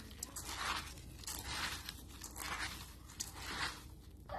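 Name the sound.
mixing khichuri ingredients together with mustard oil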